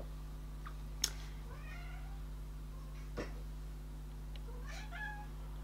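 A domestic cat meowing faintly several times, soft drawn-out calls spread across a few seconds over a steady low electrical hum, with a couple of light taps.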